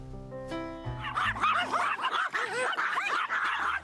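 A small chihuahua yips and barks in quick, high-pitched bursts, fairly close, following a brief tonal sound at the start.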